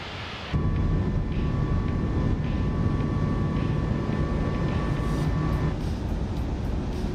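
An airplane engine drones loudly and continuously, running rough, a steady close roar with a faint tonal hum through most of it and no talking.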